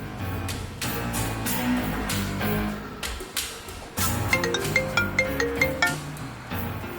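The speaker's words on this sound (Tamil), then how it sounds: "சரி, ஃபோன் அடிக்கலாம்." A phone rings for an incoming call in a Tamil TV serial scene, giving a rhythmic series of bright electronic ringtone notes over dense background music.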